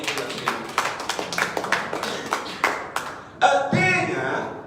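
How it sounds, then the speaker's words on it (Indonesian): Congregation clapping hands during a church sermon, a run of sharp, fairly regular claps close by for about three seconds, then giving way to a denser, sustained swell of sound. "Tepuk tangan untuk Tuhan."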